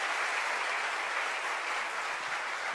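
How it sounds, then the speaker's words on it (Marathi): An audience at a public gathering claps in a continuous, dense wash of applause that holds steady for the whole stretch, fairly distant and moderately loud, with no voices above it. "टाळ्या वाजत राहिल्या पाहिजे"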